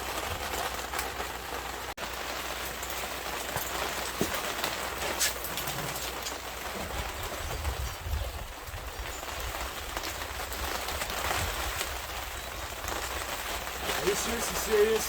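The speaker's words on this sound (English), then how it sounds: "Is it really raining right now?" Rain falling steadily outdoors during a Harley-Davidson M8 114 cam install, a constant patter with pigeons cooing faintly in the background.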